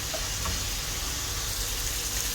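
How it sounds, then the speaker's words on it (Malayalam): Ingredients for a prawn molee, a Kerala prawn curry in coconut milk, sautéing in a pan, giving a steady, even, low-level sizzle with a soft hiss throughout and no voices. "അപ്പോൾ 2 മിനിറ്റ് നല്ലപോലെ വഴറ്റി കൊടുക്കാം"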